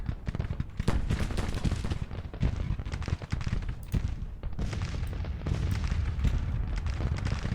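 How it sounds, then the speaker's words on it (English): Artillery fire in Grand Tactician: Civil War, several batteries shelling in a Missouri battle. Repeated booming reports and distant blasts roll over a constant low battlefield rumble. "we've got 3 units of artillery firing on them now"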